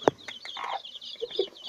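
Angry mother hen guarding her chicks gives close, sharp clucks and short agitated calls in an uneven burst.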